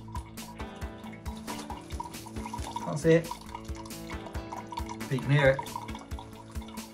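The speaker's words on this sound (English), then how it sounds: "that noise you can hear is because there's a drain under here, which is currently draining all the water away into a soakaway" Water trickles and drips into a drain beneath the floor of a Harris hawk enclosure during cleaning, draining away into a soakaway. The faint, steady flow sits under a person talking, with a couple of louder splashy bursts.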